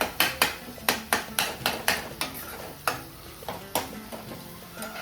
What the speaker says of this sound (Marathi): कांदा चांगला मऊ होऊन द्यायचा आहे